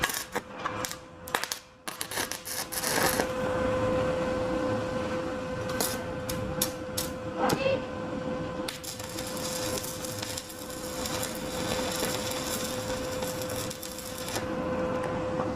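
Arc welding on a workpiece with a weak earth connection: several sharp crackling strikes spark at the start, then settle into a steady buzzing, sizzling tack weld that carries on with brief pops, close and fairly loud.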